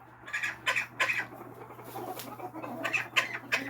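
Rooster clucking in short, soft bursts, fairly close, with a low steady hum underneath and no talking.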